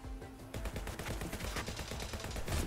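Gunfire in the video game Swords with Sauce: rapid bursts of shots crackling in quick succession, loud and dense, continuing almost without pause.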